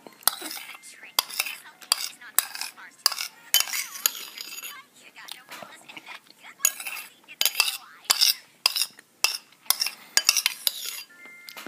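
Spoon clinking and scraping against a bowl while eating ice cream, close and fairly loud, in repeated irregular bursts of metallic clicks and scrapes with short pauses between them.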